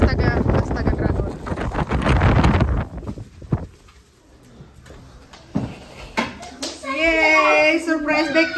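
Strong gusts buffet the microphone outdoors at home for a few seconds, then ease off as people talk and children's voices follow.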